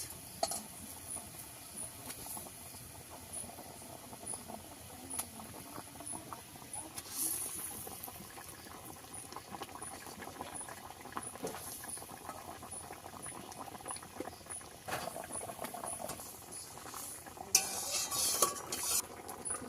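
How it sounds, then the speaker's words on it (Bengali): Water boils in a cooking pot while fish curry is being made, a faint, steady bubbling with scattered small pops and clicks that grows a little louder near the end. "জল ভালো করে ফুটে গেছে"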